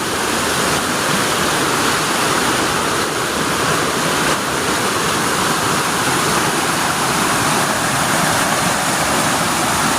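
A waterfall at a Thai shrine site pours in a steady, loud, broadband rush for the full length, with no voices over it.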